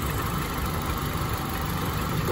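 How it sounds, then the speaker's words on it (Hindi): A Honda Civic VTi Oriel engine idles with a steady, loud, unbroken rumble and a dense mechanical hiss. "दिल दिमाग का सुकून व्यूअर्स इस इंजन की साउंड में है।"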